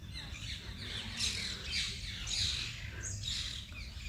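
Birds call and squawk in short repeated bursts near large neem and peepal trees, over a low steady background hum, moderately close, with no voices.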